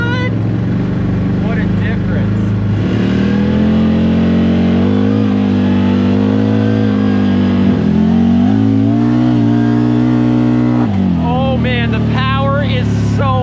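A CFMOTO Z-Force 950 side-by-side with a new clutch and belt accelerates on a trail at Windrock, Tennessee, its engine droning and climbing in pitch nearby. A person talks over the engine.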